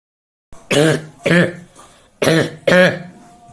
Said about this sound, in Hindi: कितने टाइम से है तुमको ये खांसी?